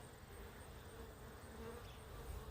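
A honey bee swarm of roughly fifteen thousand bees clustered outdoors in Sturbridge, Massachusetts, giving off a dense, steady, close buzzing hum that holds evenly throughout.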